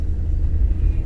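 A big truck spraying water down the road rumbles past, a loud low roar close by with a faint hiss of spray above it, heard alone without talk.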